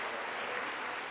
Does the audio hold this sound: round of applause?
yes